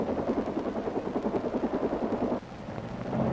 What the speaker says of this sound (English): This helicopter was so overloaded that it couldn't get airborne.